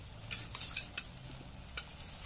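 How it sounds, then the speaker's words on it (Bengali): Masala spice paste is stirred and fried in a pan over low gas. A spoon scrapes and clinks in a few quick strokes against a quiet, steady sizzle, with no talking. "গ্যাসটা আস্তে করে দেবো, দিয়ে মশলাটা আমি কষবো।"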